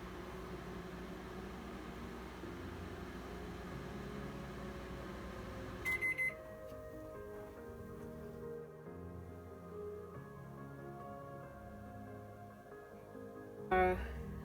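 A microwave oven hums steadily as melt-and-pour soap base melts inside, a faint low drone with a short burst of beeps partway through and another brief beep near the end.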